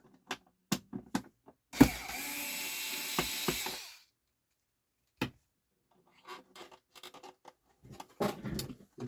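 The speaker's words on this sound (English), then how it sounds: "I like to hit the speed switch with a little bit of contact cleaner" An aerosol of contact cleaner sprays onto the speed switch of a Sony PS-LX210 turntable in a two-second hissing burst, surrounded by scattered clicks, taps and handling noises.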